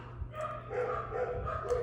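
Pet dogs in a home, yipping and whining in a short, busy run of close, moderately loud barks and whimpers.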